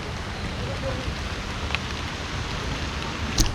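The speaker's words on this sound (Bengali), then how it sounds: "এখন তো টানা বৃষ্টি" Steady rain falls continuously in Rangpur, producing an even, dense patter and hiss with a few sharper drips standing out.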